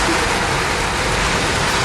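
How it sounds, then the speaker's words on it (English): Heavy rain pours down in a dense, steady hiss, loud and unbroken for two seconds, with no voices over it. "rain falling down in buckets"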